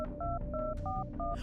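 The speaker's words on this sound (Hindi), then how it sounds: "इस बीच उसने अपना फोन निकाला और सीधा देवेन को फोन मिला दिया।" A phone number is dialed on a telephone keypad: a quick run of about five or six distinct DTMF tones, each a short steady beep separated by brief gaps, loud and close with no talking.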